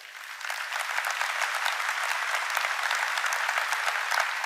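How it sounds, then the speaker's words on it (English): A conference audience applauds the NVIDIA CEO with dense, even clapping from many hands, steady and moderately loud from start to finish with no talking over it. "Please give him a big round of applause"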